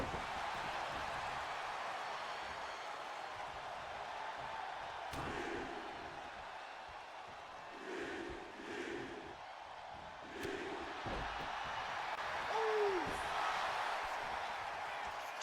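A wrestling arena crowd in a video game cheers with a steady roar throughout, swelling in places, with a few dull impacts and whoops rising over the constant noise.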